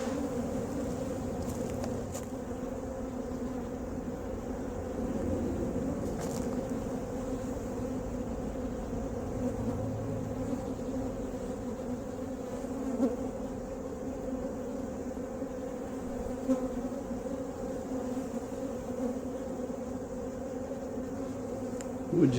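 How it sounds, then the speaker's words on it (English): Honey bees buzz steadily from an opened hive box during a colony split, a dense, continuous drone with no talk over it. "Would you say that's a strong box of bees right there?"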